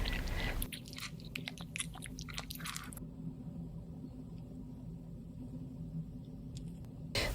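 Close bites and chewing of crispy fried potato hawawshi stuffed with minced meat and melted cheese, with crunchy bursts in the first few seconds followed by softer steady mastication, no talking.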